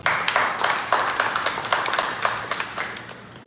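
A church congregation claps together in a dense, loud, continuous patter of many hands, sustained without talk.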